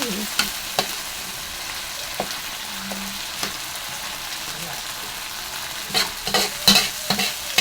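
Sardines are stirred and sautéed in a hot pan, with a steady sizzle of frying under repeated scraping strokes of a utensil against the pan. The sizzle grows busier and louder toward the end.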